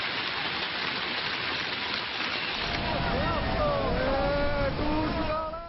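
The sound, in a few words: heavy rain falling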